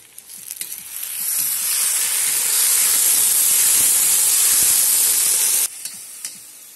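Garlic, tomatoes and chicken frying in a cauldron over a campfire for afritada, a loud hissing sizzle that swells up after a second of light clatter, holds steady, then drops back to soft crackles near the end.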